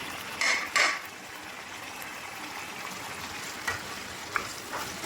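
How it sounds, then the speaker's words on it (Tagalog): Vegetables and chicken stirred in a pan while sautéing, with a steady low sizzle and a few sharp scraping clacks of the utensil against the pan, close and with no talk. "Stir lang po natin hanggang sa maluto yung gulay."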